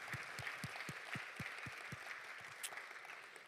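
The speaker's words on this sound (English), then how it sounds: "Can you give these gentlemen a round of applause and thank them for their sponsorship?" A round of applause at a college innovation center launch event, with a steady wash of clapping from the audience and some distinct nearby claps.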